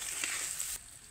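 Amla pickle with sugar stirred over low heat, a soft brief sizzle and hiss that fades abruptly after under a second.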